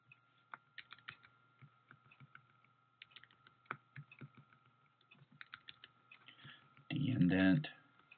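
Computer keyboard keys clicking in irregular bursts while code is typed and indented, close and fairly quiet, with a steady hum beneath and a brief louder rustle near the end.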